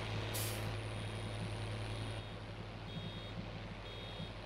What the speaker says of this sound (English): I guess you can hear the buzzer from the inside.